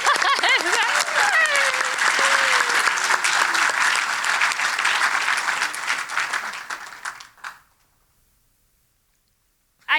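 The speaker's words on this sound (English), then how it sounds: "Let's have one more round of applause" An audience at an evening honoring event bursts into dense, sustained applause for about seven seconds, with a brief high whistle early on, then it stops abruptly into near silence.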